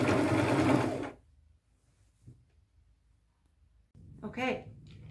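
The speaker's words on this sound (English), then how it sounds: "I just grab a few at a time and kind of lay them on there, spread them out a little bit, and just sew over top" A sewing machine stitches fringe onto a jacket made from a blanket, its low, steady whir running quietly between stretches of a person talking.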